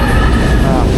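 An electric metro train arrives at a Manila station, a loud close rumbling roar of wheels and motors filling the platform, with a voice talking over it.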